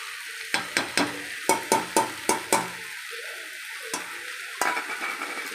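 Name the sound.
sautéing brinjal with coconut powder on low flame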